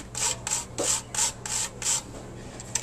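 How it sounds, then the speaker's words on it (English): Fresh whole nutmeg rasped against a grater in a kitchen, a steady run of about seven short scraping strokes, close and clear with brief pauses between them. "you want to grind about 1/4 of one of these pieces of nutmeg"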